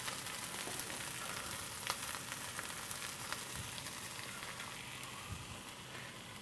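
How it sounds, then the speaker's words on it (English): Canadian bacon fries in a pan with a steady, close crackling sizzle and scattered pops, and now and then the pieces are shifted around, with no one speaking. "fried Canadian bacon"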